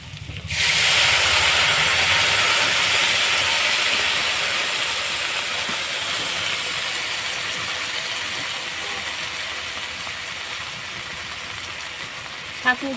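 Spice paste hits hot oil with fried okra and potato and five-spice seeds in a village kitchen. A loud hissing sizzle bursts up at once, then slowly eases into a softer, steady frying crackle.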